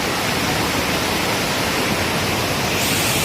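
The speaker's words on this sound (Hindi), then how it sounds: "ओए देखो वाटरफॉल।" Umru waterfall in West Karbi Anglong pours with a constant, dense roar of rushing water, loud and unbroken, with no voices.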